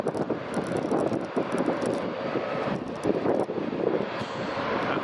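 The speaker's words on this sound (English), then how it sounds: "Oh, British Airways is taxiing as well." A British Airways airliner taxies at Edinburgh Airport, a steady roaring jet engine drone heard from a distance with some wind buffeting on the microphone.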